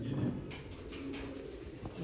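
Pigeons cooing softly at a rooftop loft of breeding pairs, low throaty coos repeating through steady outdoor background noise, with no talk.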